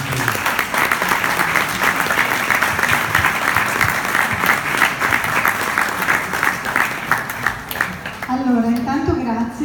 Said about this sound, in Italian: vi chiedevo un applauso perché è una bella esperienza anche quella che abbiamo sentito.